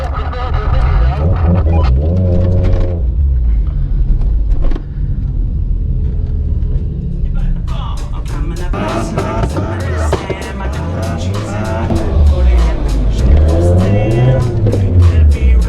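A black Volkswagen Mark 1 GTI running a Corrado G60 supercharged engine races on track, its engine droning and rumbling loudly throughout, rising in pitch under acceleration, with a voice talking over it.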